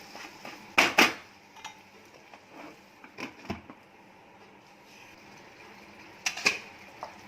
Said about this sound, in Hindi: बीच बीच में इसको स्टर करते रहेंगे